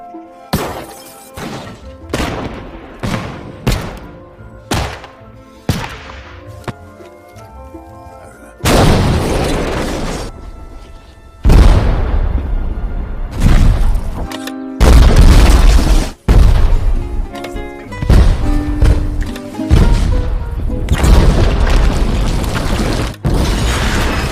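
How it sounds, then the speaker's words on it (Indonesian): A string of sharp bomb blasts, first a rapid series of short isolated booms, then louder, longer explosions with shattering debris and rumbling tails, alone and close. "Hobinya ngeledakin bom."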